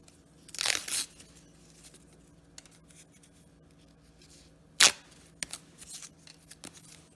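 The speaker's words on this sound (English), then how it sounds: "Once you finish, you just rip the piece of paper off." Paper being ripped away from freshly machine-sewn fabric for a two-color baby dress, a couple of sharp tearing bursts separated by quiet stretches with small rustles and crinkles, close and fairly faint.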